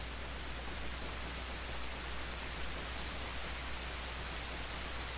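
Rain in Zelda: Ocarina of Time, a steady, even hiss of downpour that holds constant throughout with no voices.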